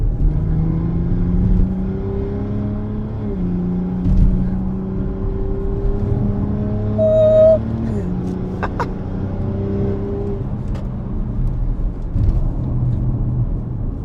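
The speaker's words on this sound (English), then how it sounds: "So let me rev it one more round before I wind up this session of explanation. Sports mode." A tuned Stage 2 BMW X3 M40i makes about 470 wheel horsepower and has a CSF part fitted. In sports mode its engine revs repeatedly, rising and falling with a deep, loud rumble heard close up.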